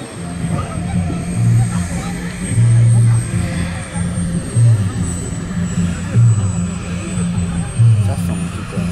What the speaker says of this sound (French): On dirait un vrai avion mais en miniature.